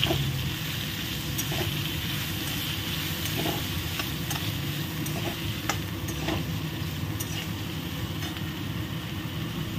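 Cleaned moringa drumsticks sauté lightly in a hot pan with a steady, close sizzle and occasional stirring ticks and scrapes throughout.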